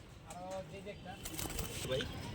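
Domestic pigeons offered for sale, including a female, coo softly nearby in a few short phrases beneath someone talking.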